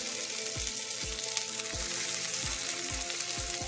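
Hot oil sizzling as it hits lentils, a loud, close, continuous fizzing hiss with a series of evenly spaced soft thumps underneath, and no voices.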